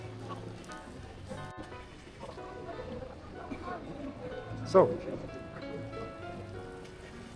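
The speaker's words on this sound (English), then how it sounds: "Had a sudden downpour here" A sudden downpour falls in a town in Colombia's Oriente Antioqueño region. Steady rain patters on surfaces at moderate volume while a person speaks briefly.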